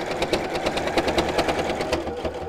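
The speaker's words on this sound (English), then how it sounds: "I'm going to backstitch at each side just to make the seam nice and strong as I do that." A sewing machine backstitches a seam through fabric, its needle pounding in a quick, even mechanical rhythm with a steady motor hum throughout, close and moderately loud.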